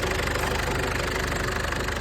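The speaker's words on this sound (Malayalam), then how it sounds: "എൻജിൻ നോയ്സ് കേട്ടില്ലേ?" The engine of a 4x4 automatic car idles steadily with the bonnet open, a close, continuous rumble with a rhythmic knocking pulse and no talk.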